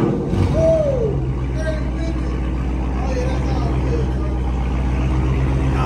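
Car engine started by remote start and idling with a deep, steady low rumble, close and continuous, under people talking.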